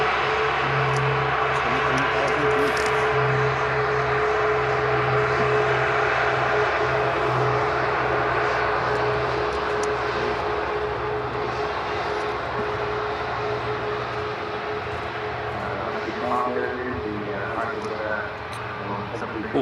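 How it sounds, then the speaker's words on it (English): An Icelandair airliner departs with a sustained loud jet roar and engine drone that holds steady before easing slightly at the end, with a person talking over it. "Oh, Iceland Air going out now."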